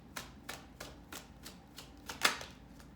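Tarot cards are shuffled in a series of soft, papery riffles, about eight quick swishes at a fairly steady pace, close and quiet with one sharper snap near the end.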